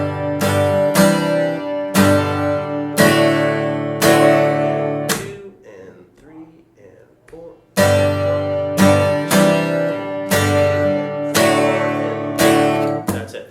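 Chords of the second part of a song are strummed in short rhythmic bursts on guitar, loud and close, with a quiet pause in the middle where a voice counts softly.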